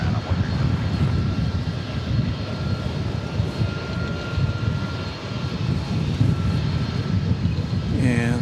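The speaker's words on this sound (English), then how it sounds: "comes that A300, so we'll get a good look at that as it does a parking job here" A 19-year-old Airbus A300 taxiing to park at DFW Airport, its engines a steady, fairly close low rumble and whine that holds throughout, with someone talking over it.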